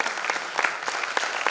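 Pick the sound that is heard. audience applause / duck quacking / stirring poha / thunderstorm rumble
audience applause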